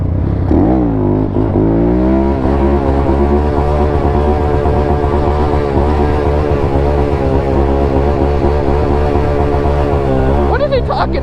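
A Honda Grom motorcycle engine revs loudly and steadily at close range, its pitch climbing at the start and again near the end, with engine drone filling the whole stretch.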